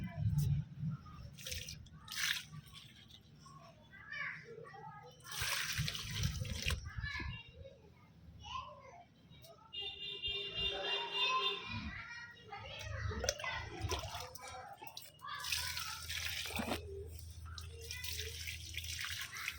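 Water pours and splashes in bursts as a potted plant is watered, with drips between pours and people talking nearby.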